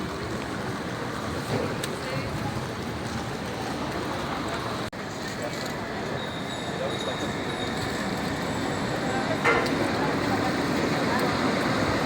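A tram rumbles past along a busy city street in Nancy on a Saturday morning, a steady rolling roar with faint wheel squeal and a bell-like ping, while people talk nearby.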